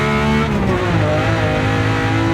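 A Walter Wolf Special Lamborghini Countach 500S race car pulls hard in 3rd gear through a track carousel, its engine note climbing steadily in pitch as it accelerates, loud and close with a continuous raw roar and no talk.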